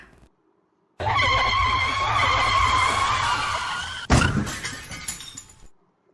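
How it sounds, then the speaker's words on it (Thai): Loud, sustained tire screech of braking car lasting about three seconds, ending in an abrupt crash-like burst that fades out. "เสียงแหลมนะคะยกตัวอย่างเสียงเบรกรถค่ะ"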